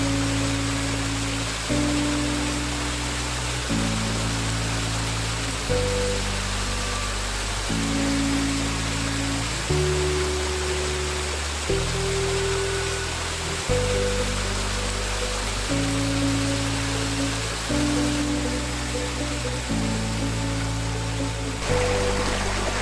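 Creek water flowing steadily outdoors, a loud continuous rushing wash with no breaks, heard close over a repeating musical backing.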